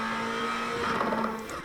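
Steady engine drone from a 2024 Acura Integra Type-S high-performance engine, a sustained buzzing tone that swells slightly midway with a faint rising edge near the end.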